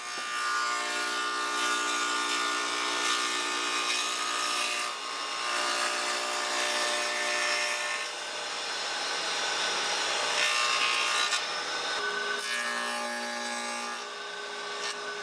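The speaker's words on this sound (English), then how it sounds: "The top of the lamp table gets rabbeted on both edges." Power tool cutting rabbets along both edges of a pine lamp tabletop, a steady, continuous whining cut heard close and alone, with slight shifts in pitch as it moves along the wood.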